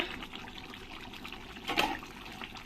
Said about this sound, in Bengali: জলটা দিয়ে আমি আবার কিছুক্ষণ ঢাকা দিয়ে রাখবো